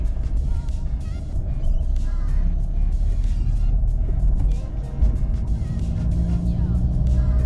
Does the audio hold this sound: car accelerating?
yes